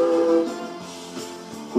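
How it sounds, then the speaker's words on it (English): A short whistle blast from the Durango & Silverton narrow gauge steam train, sounded at a street crossing in 1984; the tone is strong at first and then fades over under two seconds. "Whistles for each street crossing are answered by waves from townspeople all along the track"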